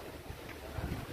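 Wind gusts buffet the microphone, a low rumbling roar with occasional stronger bursts.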